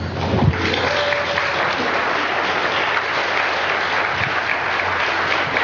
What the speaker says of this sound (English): I would like you to take a quick second and give yourselves a round of applause.